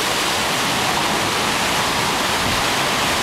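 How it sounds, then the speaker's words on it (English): Ocean waves crash onto rocks along a rocky shore, giving a dense, continuous rushing roar of surf and foam that stays loud and steady throughout, with no talk. "Alright, one more swell coming in."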